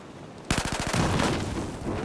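Gunfire in Battlefield 4, a sudden loud burst of rapid automatic shots followed by a dense roar of continued firing and echo.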